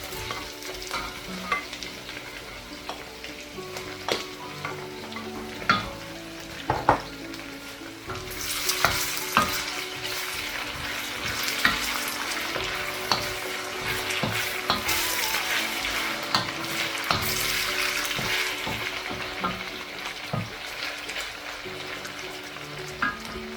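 Beef sizzles loudly as it stir-fries in a hot pan, with a steady frying hiss and repeated scraping stirs close up for the whole stretch, and no voices.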